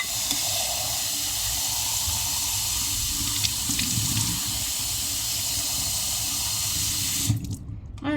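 Tap water runs steadily into a kitchen sink while courgettes and other vegetables are rinsed for weekly meal prep, a constant close hiss and splash that stops abruptly near the end.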